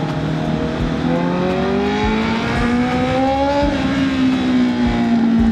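A Honda CB650R motorcycle engine pulls hard while overtaking in city traffic, a loud steady drone whose pitch climbs smoothly through one long gear, close up with wind noise and no talking.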